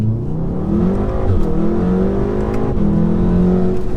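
A stage 2 tuned 2016 VW Golf R accelerates hard from inside the cabin, its engine note climbing steadily with gear-change dips, loud and continuous throughout with no talk.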